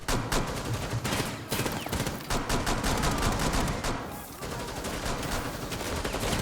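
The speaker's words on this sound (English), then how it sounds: "Now, I noticed that there's a lot of fire coming through from behind me here." Gunfire in the video game Rainbow Six Siege, rapid repeated shots and automatic bursts crackling loudly throughout, close and continuous over several seconds.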